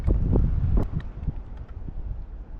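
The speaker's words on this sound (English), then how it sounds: "Wind has picked up a bit" Wind gusts buffet the microphone on a fishing boat out on the water, loud low rumbling bursts at first that settle into fainter uneven blowing.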